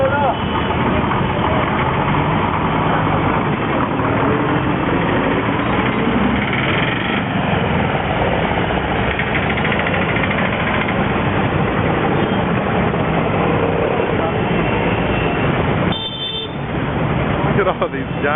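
Busy street traffic in India, a dense wash of engine noise from cars, mopeds and trucks passing close by, with a brief dip near the end; people talk in the clip.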